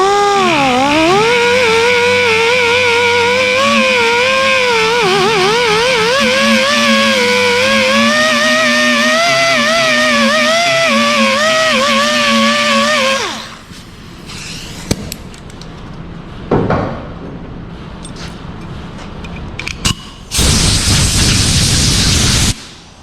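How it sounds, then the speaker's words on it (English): Die grinder working deep into the metal of a Ford F250 truck cab, a loud, sustained high whine wavering in pitch as pressure changes, then stopping for shorter bursts and a final loud run. "This one I am going to use the die grinder because it's really deep."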